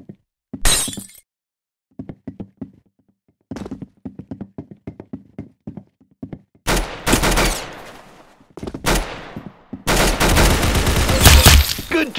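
Gunfire in the Roblox game Arsenal: sharp isolated shots and quick bursts, then dense loud rapid fire with glassy, breaking impacts, close and punchy with silent gaps between.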